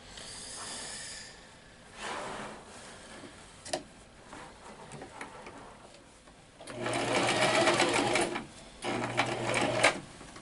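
A sewing machine stitches a wax canvas water bottle bag in a few bursts, faint whirring runs giving way to louder, steadier stitching toward the end, with quiet pauses between.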